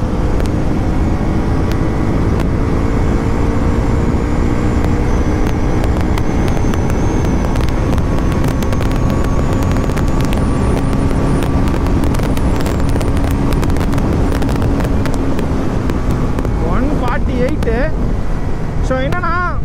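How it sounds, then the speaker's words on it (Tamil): Heavy headwind roar buffeting a rider on a Bajaj Pulsar NS 400Z motorcycle at speed above 140, a loud continuous rushing blast with engine drone underneath and a voice talking over it. "ஆப்போசிட் விண்டில் போயிட்டுருக்கேன்"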